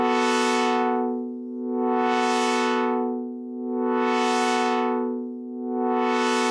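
A buzzy sawtooth synth tone in Pigments held steady while an LFO-modulated cutoff filter sweeps its brightness open and closed in a slow, regular cycle, about three full sweeps with no voice.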